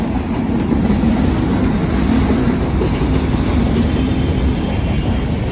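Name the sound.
freight train passing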